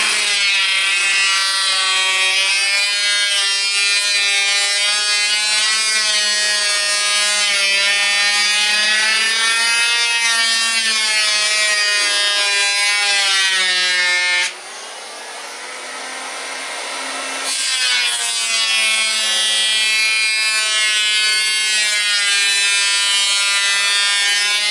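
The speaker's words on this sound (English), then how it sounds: "Hand planer works fine, and that's the next step with these boards, is to take the hand planer." An electric hand planer whines steadily as it shaves about 1 millimeter off pallet wood boards, a loud continuous tonal drone with a brief dip in pitch as the blade bites deeper before recovering.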